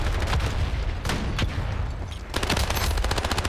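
Rapid automatic gunfire in the video game Ironsight, with dense repeated bursts of shots rattling close and loud, briefly easing before another burst resumes.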